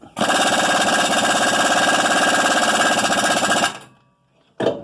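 An impact wrench runs in reverse on a seized bolt, giving one loud, close, steady hammering burst of about three and a half seconds, then a short silence and a brief restart.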